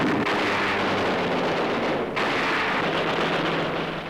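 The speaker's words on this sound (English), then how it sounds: "An anti-aircraft tower is blasted." A loud, continuous blast roar from an anti-aircraft tower being demolished during a WWII air raid on the Philippines, with rumbling explosions and no pauses across the stretch.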